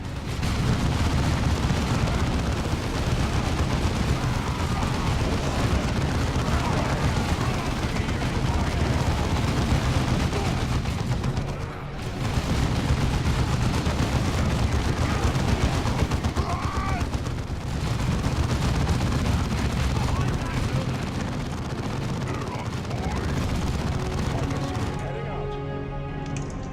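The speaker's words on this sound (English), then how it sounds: "Devastator's ready to fire. Our heavy bolters are deadly, but they take time to set up" Devastator squad heavy bolters firing in Dawn of War II, a dense, loud, continuous roar of rapid gunfire and blasts with brief lulls, mixed with battle noise.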